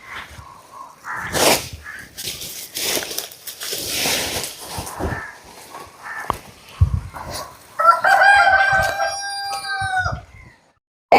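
Chickens cluck and rustle nearby, then a rooster crows loudly for a couple of seconds before falling quiet.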